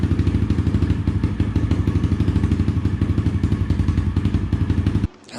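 A Yamaha Raptor 90 youth ATV with a full exhaust and a 128 big bore kit idles close by with a loud, steady, lumpy putter, then cuts off abruptly near the end.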